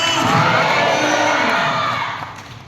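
A church congregation claps and cheers loudly together during a Sunday service, a dense sustained roar of applause that fades toward the end.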